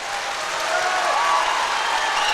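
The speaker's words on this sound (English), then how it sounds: "Huge round of support from the crowd." Sustained applause from a full arena crowd at the 2023 European Weightlifting Championships, men's 81 kg event, a dense steady roar of clapping that swells slightly midway and carries on without pause.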